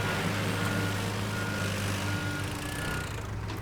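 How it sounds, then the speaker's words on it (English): A crane vehicle reversing in the video game Teardown gives off steady, evenly spaced reversing beeps over a continuous low engine drone, with no talking. "we're going to carefully reverse our crane up here"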